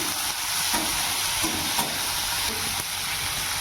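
Chopped onions and tomatoes fry in a pan for chilli bhetki fish, giving a steady, close broadband sizzle with faint scrapes of stirring throughout, and no voices.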